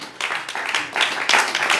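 Worshippers in a church congregation clap in acclaim of the Lord, a loud burst of many hands swelling in uneven waves with a faint murmur of voices underneath.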